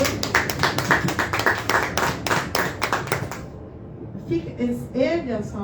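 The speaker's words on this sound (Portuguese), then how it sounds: "Aplauda o Senhor." A church congregation clapping in a brisk, fairly regular rhythm for several seconds, loud and close, then stopping as a voice begins speaking.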